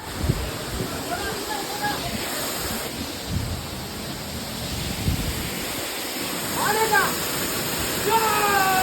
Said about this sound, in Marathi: तर हा धबधबा आहे